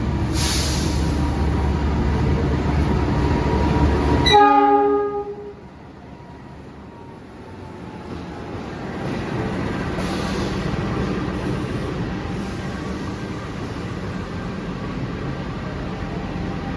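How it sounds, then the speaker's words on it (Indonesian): A Lodaya passenger train pulls into Kroya station on track 2, its loud horn blasting for several seconds before the sound drops to a steady rumble of railcars rolling in. "ini di jalur 2 Stasiun Kroya sedang masuk kereta api Lodaya ya teman-teman"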